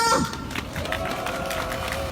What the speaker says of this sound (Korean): 서울 추진이 송영학 동지를 힘찬 박수와 함성으로 모시겠습니다